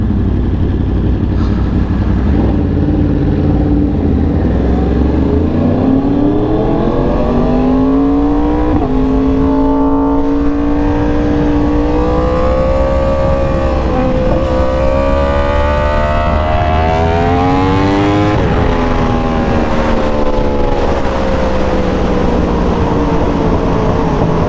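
Yamaha R1 sport bike on a highway, loud and close, dropping gears and then accelerating hard, the engine note climbing in pitch through each gear over steady wind roar.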